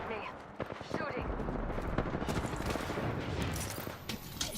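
Dense rapid gunfire in a video game, sustained bursts of shots layered over each other, loud and close, with a voice speaking over the start.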